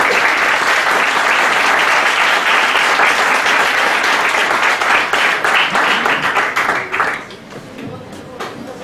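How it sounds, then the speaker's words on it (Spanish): A university lecture audience gives a guest a warm welcome with dense, sustained applause that holds strongly, then thins into scattered claps and tapers off near the end. "recibamos con un caluroso aplauso a nuestra invitada"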